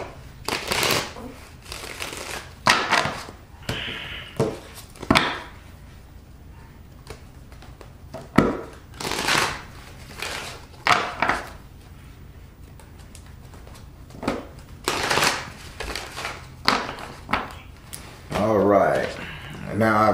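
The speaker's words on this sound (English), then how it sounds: "Shuffle the cards." Tarot cards are shuffled by hand in a run of repeated riffling bursts, each a crisp papery flutter, with brief pauses between and a person talking intermittently over them.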